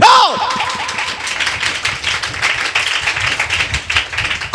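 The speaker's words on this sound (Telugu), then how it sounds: "చప్పట్లు కొట్టు." A church congregation at a Sunday worship service claps together in a dense, sustained burst of applause that fills the room. It follows a brief ringing tone at the start and carries on steadily to the end.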